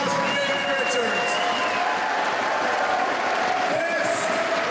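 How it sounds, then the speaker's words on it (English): Wrestling crowd at an independent professional wrestling show applauding and cheering after a match: a steady, dense wash of clapping and crowd noise lasting the whole stretch, with voices mixed in. "Let's hear a round of applause for Davey Richards"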